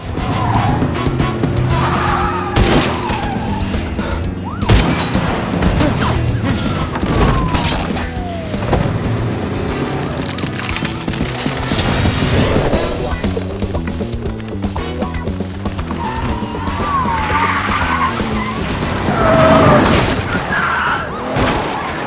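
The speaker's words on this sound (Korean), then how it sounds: "추적을 따돌리려고 트럭을 몰고 도망치는데" A smuggler's truck races off in a film chase scene set in Bogotá, with a roaring engine, repeated tire skids and squeals, and heavy booms and crashes crowding a loud, busy action mix.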